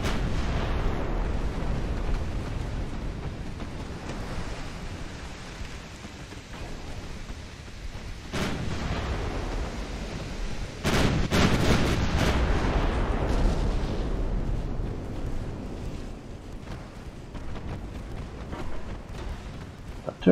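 Deep booms from 11-inch naval guns in the Admiral Dreadnaughts naval battle game, a rumbling low roar with a few sharper blasts clustered midway, heavy and sustained throughout.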